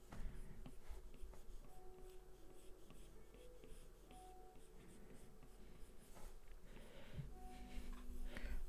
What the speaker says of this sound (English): so I'm just gonna draw just a nice shape like so